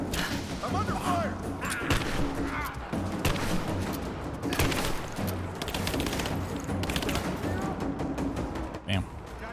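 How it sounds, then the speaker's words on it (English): Gunfire in Rise of the Tomb Raider erupts in repeated sharp bursts and single shots amid explosions and combat clatter, loud and busy, with a player's voice talking over parts of it. "I'm under fire!"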